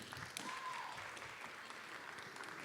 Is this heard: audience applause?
yes